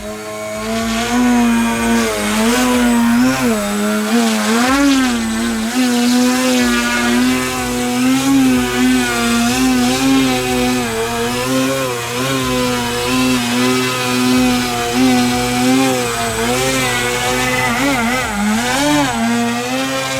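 A Flex Innovations Twin Otter 80E electric RC plane flies overhead, its twin motors giving a continuous buzzing drone whose pitch wavers and swells as it maneuvers, with no talking.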